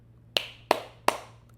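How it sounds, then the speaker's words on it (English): Three sharp hand claps ring out one after another at an even pace, close and crisp against a quiet room background. "Clap it up for myself."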